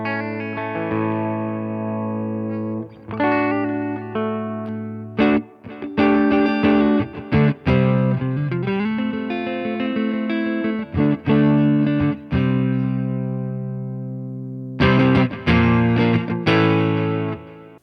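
Electric guitar played through the Lux Reverb stock preset on a Fender Tone Master Pro, loud and upfront with sustained chords and short melodic runs, held notes ringing out with reverb and brief pauses between phrases.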